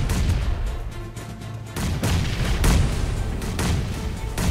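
Grenade explosions in a 72-player tower-defence match within a shooting video game, a series of heavy booms and blasts over a continuous loud rumble, with several sharp bursts in quick succession.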